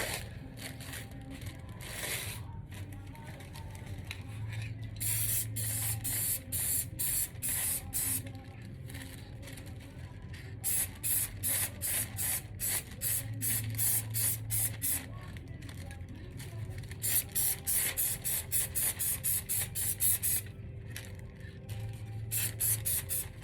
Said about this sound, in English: Spray the whole entire design.